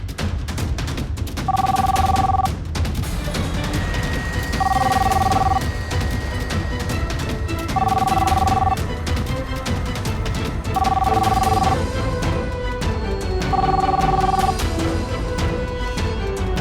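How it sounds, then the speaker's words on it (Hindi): A telephone bell rings in five evenly spaced bursts of about a second each, heard under a loud, busy dramatic music score in a Hindi TV serial scene. "राघव, मैं कब से तुम्हें फोन लगा रही हूँ।"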